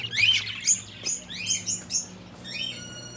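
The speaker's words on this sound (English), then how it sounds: "Oh, what in the world? It's a bird party here too." Several birds in a pet shop chirp and tweet in quick, bright bursts, close and fairly loud, with short rising calls and a few higher sustained trills.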